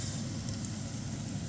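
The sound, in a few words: onion and garlic sizzling in a frying pan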